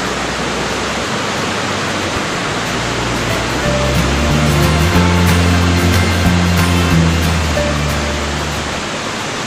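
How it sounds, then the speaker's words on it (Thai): Water runs down a stream channel in the mountain forest near Mae Kampong village, a loud continuous rushing wash close by, with a low droning tone swelling in the middle and then fading. "ก็จะเห็นร่องน้ำนะครับที่จะไหลไปด้านล่างนะครับ"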